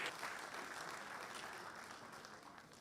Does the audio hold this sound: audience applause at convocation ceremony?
yes